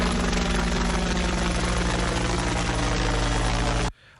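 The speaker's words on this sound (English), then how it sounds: "So this helicopter at 5 a.m. is our new alarm for the entire island." A helicopter roars loudly and steadily overhead at 5 a.m. above an island, with a heavy low-pitched throb and rotor drone that cuts off abruptly near the end.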